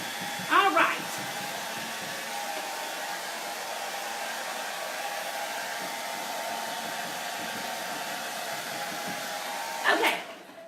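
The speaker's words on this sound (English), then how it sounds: "to speed it up, I got us a blow dryer" A handheld blow dryer runs continuously with a steady whooshing roar while drying paint on a thrift-store piece being made over, with brief louder bumps near the start and the end.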